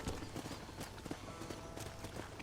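Horse hooves clip-clop in a steady trotting rhythm in the video game Red Dead Redemption on PS4, close and continuous under a soft ambient bed.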